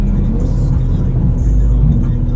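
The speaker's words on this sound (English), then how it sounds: "those downshifts sound great" A 2024 BMW G82 M4 Competition RWD's S58 engine drones loudly with shifting revs and brief pitch changes during downshifts, heard from inside the car, with voices faintly underneath.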